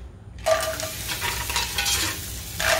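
Razor clams hit a very hot pan with harissa butter and garlic paste, setting off a steady, close sizzle and crackle of frying that holds for a few seconds without talk.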